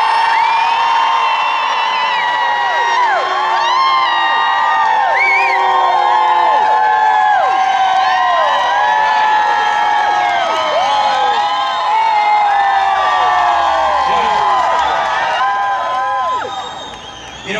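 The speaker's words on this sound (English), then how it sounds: "Let's hear a cheer from all the women out in the crowd." An outdoor rally crowd at a religious freedom event in Chicago cheers loudly, with high whoops and shouts from women rising and falling over a sustained roar that fades briefly near the end.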